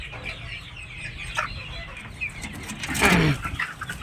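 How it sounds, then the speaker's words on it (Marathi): Chickens of a Sonali and Kaveri mix cluck in a low-cost poultry shed with wooden perches, set in a lemon orchard; a steady murmur of clucks rises to a louder burst near the end. "आता हा कोंबड्यांचा शेड बघूया आपण"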